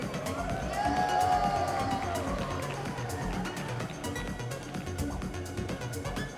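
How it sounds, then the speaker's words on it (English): An audience at a demoscene party's shader coding showdown cheers and whoops for the contestants, a loud crowd swell that slowly thins out, with scattered shouts and claps. "Come on, give them a cheer."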